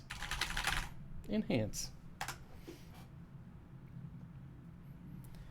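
Rapid clicking of a mechanical computer keyboard, close and loud, runs through the stretch with brief bursts of speech cutting in during a live stream.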